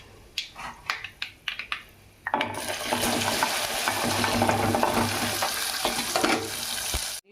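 A few sharp clicks and taps ring out, then a loud, dense sizzle bursts in and holds steady as okra pieces hit the hot pan and fry, close up, until it cuts off abruptly.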